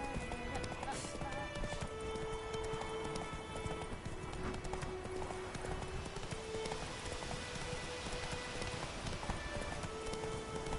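Hoofbeats of Roach, the horse in The Witcher 3, clip-clop steadily through a galloping stretch of play, with faint rain patter, a brief whinny and a voice speaking over the constant game ambience.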